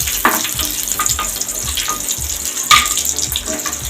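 Raisins dropped into a hot pan while making moong dal payasam sizzle loudly: a bright, bubbling crackle of frying with a couple of sharper spits, close up and continuous, with no talking.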